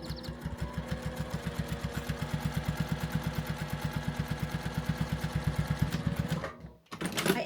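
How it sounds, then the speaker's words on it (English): A home sewing machine runs in a steady, rapid stitching rhythm while back stitching along quilt seams, loud and close, pausing briefly near the end before restarting. "I am back stitching along these seams here"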